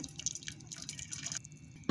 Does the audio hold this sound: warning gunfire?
no